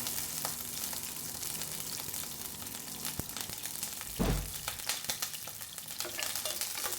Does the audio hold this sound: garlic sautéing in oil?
yes